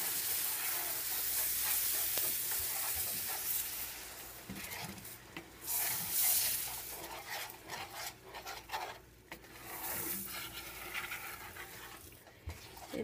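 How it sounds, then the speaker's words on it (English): Milk is poured slowly into browning gravy in a pan over medium-low heat, giving a faint, soft sizzle with quiet scraping and stirring sounds throughout. "And now I'm going to slowly start adding milk."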